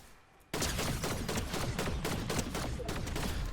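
A gun in Fortnite fires a rapid, sustained burst: dense, loud cracking shots in quick succession bursting in after a brief quiet moment, close and continuous to the end.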